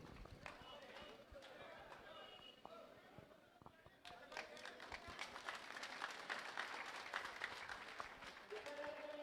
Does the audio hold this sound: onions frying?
no